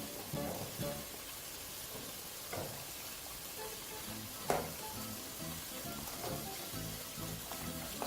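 Cauliflower pieces sizzle and crackle steadily in hot frying oil, with soft clinks and stirring noises as they are lifted out, the bubbling hiss continuous and fairly close.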